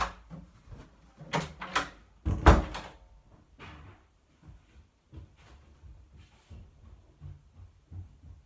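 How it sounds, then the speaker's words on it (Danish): A door is shut indoors with a sharp thump, followed by a few quieter knocks and rattles from the handle and frame in an otherwise quiet room. "Jeg lukker døren, så jeg ikke kan høre noget."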